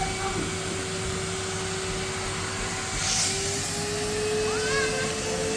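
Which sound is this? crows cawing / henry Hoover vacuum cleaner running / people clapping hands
henry Hoover vacuum cleaner running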